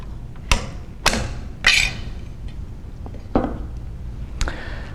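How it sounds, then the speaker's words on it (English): A top cover coming off an AK rifle gives a few sharp metallic clicks and clacks, spaced irregularly, close and fairly crisp over a quiet room, with no talking. "Next, we'll remove the top cover from the weapon."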